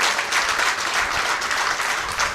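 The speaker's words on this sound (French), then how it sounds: "Je vous demande d'applaudir très fort ces mamans qui sont sacrifiées pour la vie des enfants." Sustained, fairly loud audience applause fills an award ceremony held by SOS Children's Villages Benin honouring mothers, a dense, even wash of many hands clapping without pause for the whole stretch.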